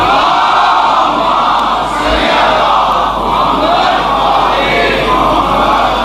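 A large crowd at a religious gathering chants salawat in loud unison, a dense continuous roar of many voices swelling and falling in waves over six seconds.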